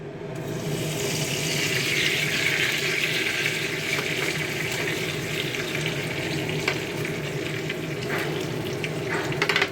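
Cumin, dry chillies, bay leaves and whole garam masala temper in hot oil for a mutton curry, giving a close, steady crackling sizzle throughout with no talking.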